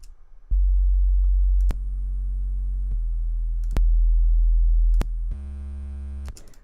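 A deep, distorted 808 sub bass, saturated through Saturn 2, plays a series of sustained notes that change pitch, each note starting with a sharp click and ringing with a gritty edge.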